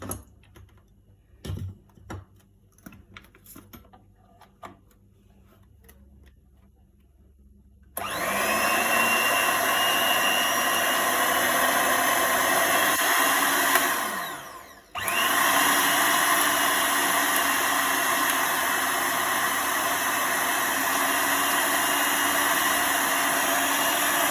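A Kenwood electric hand mixer used as an egg beater clicks and rattles for several seconds, then whirs loudly and steadily, cuts out briefly, and starts again at the same high-pitched motor whine, close up with no talking.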